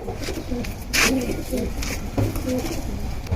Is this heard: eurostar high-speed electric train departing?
no